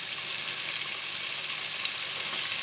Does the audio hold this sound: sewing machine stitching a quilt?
no